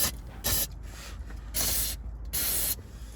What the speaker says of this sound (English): Also remove all oil stands with brake cleaner.